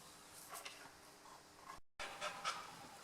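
A dog pants hard and fast right up close after running around chasing a ute, its breaths a steady rapid rhythm with a brief dropout midway.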